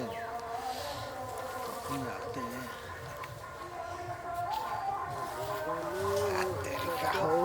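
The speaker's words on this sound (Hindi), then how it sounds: "अब जल्दी अब मच्छर खा गेले" Steady high insect buzzing of mosquitoes fills the air outdoors, continuous and fairly loud, with voices talking over it.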